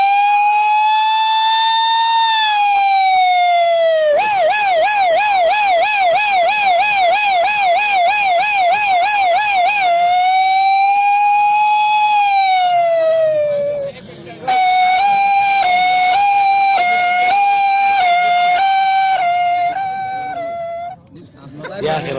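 A voice imitates a police emergency siren: a loud wailing tone that rises and falls, then a fast warbling yelp, another wail, and a stepped two-tone pattern, sustained almost without pause in a studio setting.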